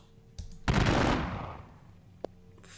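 Musket salvo in the Thirty Years War strategy game at the Battle of Breitenfeld: a sharp crack followed by a dense, rolling burst of massed gunfire that decays over about a second, then a single distant pop.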